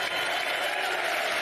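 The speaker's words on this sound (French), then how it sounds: "Accueilli sous les acclamations," A crowd at the European Parliament in Brussels applauds and cheers to welcome Volodymyr Zelensky: a dense, continuous wash of clapping and voices, loud and even throughout the short burst.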